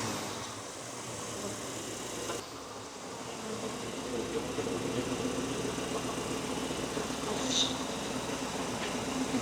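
A 1965 Ford Thunderbird engine with fuel injection idles at a steady, low hum with a faint buzzing drone, moderately quiet and unchanging, with a small tick near the end.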